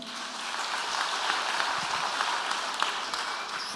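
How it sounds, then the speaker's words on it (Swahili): A church congregation at a Woman's Guild commissioning service applauds, a dense, even patter of clapping from many hands that holds steady throughout, moderately distant. "Wetu apigiwe makofi."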